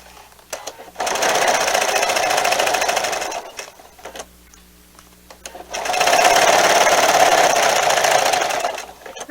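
A sewing machine stitches binding onto a quilt in two steady runs of rapid whirring, separated by a short quiet pause, close and loud.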